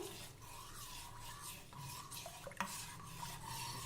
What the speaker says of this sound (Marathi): हा गुळ आपण विरघळवून घेऊ